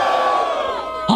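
A dense crowd roars and cheers at a street rap battle, the Batalha da Aldeia in Barueri, São Paulo, a loud, continuous wall of shouting voices that swells sharply near the end.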